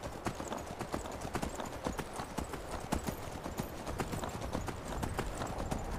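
Horse hooves clop in quick, uneven rhythm in Skyrim, a steady run of close hoofbeats with no clear neigh.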